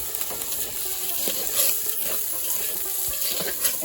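Running tap water splashes over something being washed at a sink in a village kitchen, a steady close rush with clattering knocks and short bursts, no voices.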